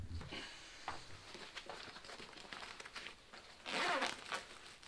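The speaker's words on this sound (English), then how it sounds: "we'll unzip this compartment, which is a little thinner" A zipper is drawn open along a thin compartment of a British Army patrol backpack, a series of close, scratchy zipping strokes ending in a louder final pull.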